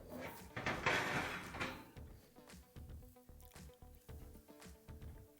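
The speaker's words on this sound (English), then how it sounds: "and then we'll put the door back on." A Samsung oven door is fitted back onto its hinges: a scraping slide followed by a series of close metallic clunks and rattles in uneven rhythm, fairly quiet, with no talking.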